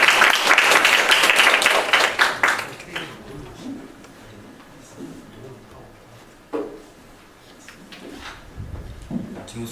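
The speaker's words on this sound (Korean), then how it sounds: "우리 전 교수님 나오실 때 큰 박수로 환영해주시면 감사하겠습니다" An audience claps in welcome as a professor comes forward at a chemistry-and-faith lecture. A loud burst of hand claps fills the first three seconds and then fades to quiet room noise with a few thumps and shuffles.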